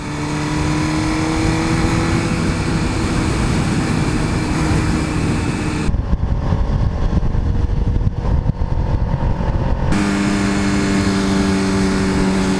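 Engine roar of a Suzuki GSX-R1000 sportbike on the move, a steady loud drone with strong low harmonics and shifting pitch, a short stretch of dense wind-buffeted rumble in the middle, no talking.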